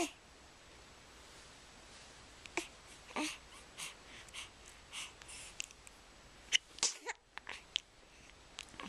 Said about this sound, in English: Was that a funny sneeze?